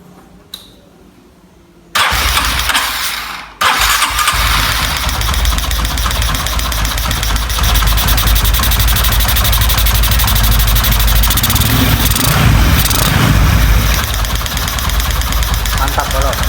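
A Honda Tiger motorcycle fitted with a PWK carburetor starts with a sudden loud catch after a quiet moment, then settles into a steady, noisy idle that runs close and loud to the end.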